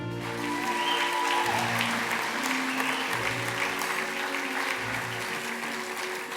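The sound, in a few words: audience applauding and cheering the host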